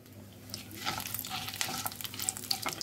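Steady sizzling in a pan as ingredients fry, with scraping stir strokes over it, close and fairly soft, with no voices.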